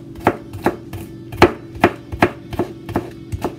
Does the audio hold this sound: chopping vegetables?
yes